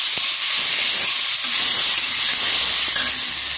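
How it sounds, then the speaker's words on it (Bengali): A vegetable curry of drumsticks, pointed gourd and potato sautés in a pan, a loud continuous hissing sizzle with faint stirring underneath; no talk. "এই যে তরকারিটা এখন কষা হচ্ছে সবজিটা"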